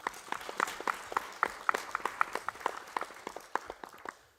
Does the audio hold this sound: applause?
yes